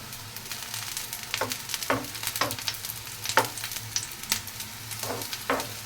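Semolina and carrot batter fries in ghee on a griddle over a medium flame, a soft steady sizzle broken by sharper crackling pops every second or so, close and fairly quiet.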